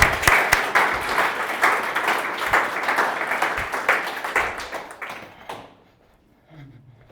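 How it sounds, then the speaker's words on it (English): An audience at a .NET meetup talk claps for a speaker, a lively burst of scattered hand claps with a few sharp close ones that thins out and stops, leaving near silence with a faint murmur. "Please give a big round of applause for speaker from tonight."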